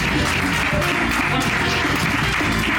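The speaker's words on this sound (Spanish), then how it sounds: "Fortísimo aplauso para Xavi Rodríguez" A dense, loud burst of audience applause fills the room continuously, with crowd noise and cheering mixed into the clapping throughout.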